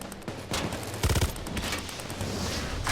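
Rapid bursts of gunfire shooting at a gas can in PAYDAY 2, loud and close, with a quick cluster of shots near the middle over constant game noise.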